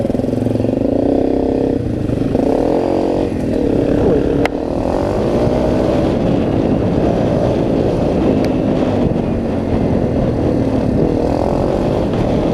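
Off-road motorcycle ride, a loud, steady engine drone rising and falling as the rider changes speed, heavily buffeted by wind noise on the microphone throughout.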